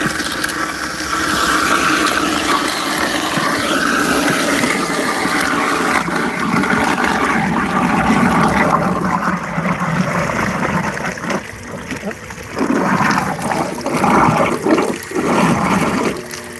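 A food waste grinder runs with water, a loud, continuous rushing whir that later turns rougher and stuttering, with brief dips as it strains on the scraps.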